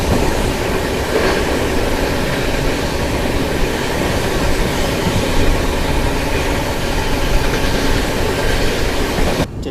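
The Subedarganj–Dehradun Express rumbles steadily along the rails near Kanth station, a constant loud roar with faint rhythmic clatter of wheels, heard from on board, no voices.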